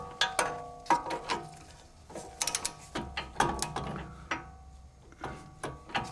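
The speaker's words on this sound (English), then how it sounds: "this fastener needs to be torqued down to 74 foot-pounds" Ratchet wrench tightening a fastener on the front lower control arm of a BMW X5 4.4i E53, irregular bursts of close metallic clicking with brief pauses between strokes, no voices.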